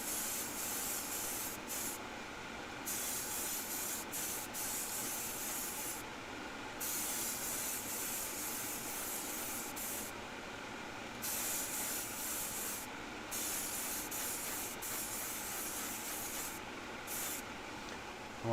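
An airbrush sprays a light dusting of paint in a steady, close hiss, cut by several short pauses where the trigger is released, with no talking.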